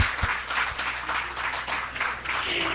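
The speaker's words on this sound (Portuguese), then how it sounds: "Por favor, as nossas palmas." An audience claps at a health event marking Universal Health Coverage Day, a soft, steady patter of applause with a few sharper claps, fairly faint and slightly distant.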